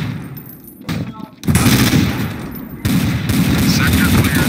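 Burst-fire gunshots in the shooter game Counter-Strike: Source, loud rapid volleys of shots with a short lull after the first second, then dense sustained gunfire continuing to the end.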